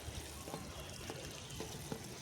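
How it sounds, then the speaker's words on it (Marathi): A small amount of water is poured into the soil of a potted betel-leaf vine, a faint, steady trickle with no voices. "असं थोडं पाणी टाकून घ्यायचं, पण ते जास्त नाही टाकायचं"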